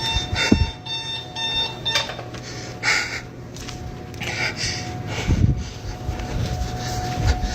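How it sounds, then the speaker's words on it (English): A steady electronic alarm tone keeps sounding with a repeating beep pattern, mixed with scattered knocks and room noise. "now the alarm's going off"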